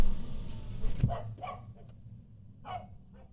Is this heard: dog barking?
yes